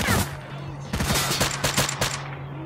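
Rapid bursts of shotgun fire in the video game S.T.A.L.K.E.R.: Clear Sky, a bandit in an exosuit firing, several loud overlapping blasts in quick succession after a brief opening shot.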